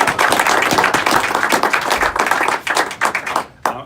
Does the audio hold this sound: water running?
no